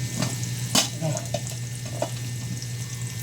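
Garlic frying in a pan at home, a steady sizzle beneath a low hum, with a few sharp clinks and scrapes of stirring and brief faint voices.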